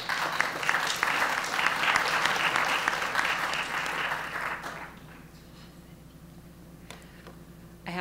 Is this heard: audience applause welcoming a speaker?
yes